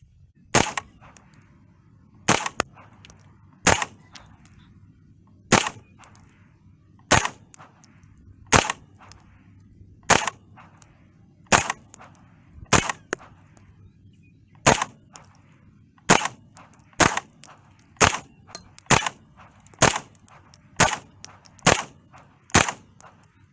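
A Smith & Wesson M&P 15-22 rifle fires about twenty sharp, loud, close single shots at an uneven but steady pace, with quiet gaps between each crack.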